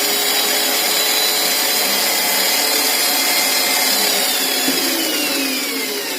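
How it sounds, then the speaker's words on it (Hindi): An electric drill machine runs continuously at speed, a steady loud whirring hum that holds evenly throughout, with no voices. "अपनी ड्रिल मशीन चल रही है"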